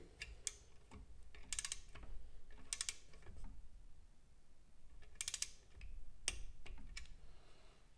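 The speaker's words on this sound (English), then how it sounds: "you'll hear the little click from the torque wrench" Torque wrench clicking as intake plenum bolts are tightened in a pattern during a plenum gasket change, giving a few sharp, close metallic clicks spread over the stretch with quiet mechanical handling between them and no talking.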